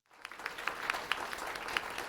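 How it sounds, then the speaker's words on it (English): A small crowd applauds in the video game Corpse Party 2U, a burst of scattered, fairly quiet claps that starts abruptly and keeps going, with individual hand strikes standing out. "Clap, everybody, clap!"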